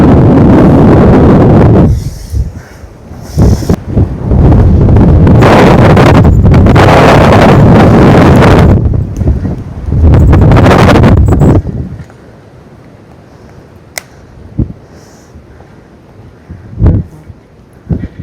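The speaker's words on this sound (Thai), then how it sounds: "ลมแรงมากทุกคน" Strong wind buffets the microphone outdoors near a cave, roaring loudly in long gusts for the first twelve seconds before dying down to quieter rustling with a few faint knocks.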